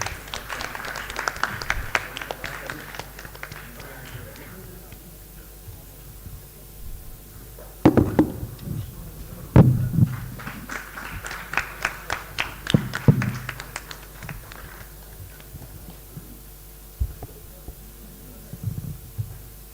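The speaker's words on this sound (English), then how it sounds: "Let us give a warm round of applause." An audience claps at a regional workshop felicitation ceremony on biomass co-firing in thermal power, with scattered bursts of applause in short waves and quieter gaps between them, heard from across a hall.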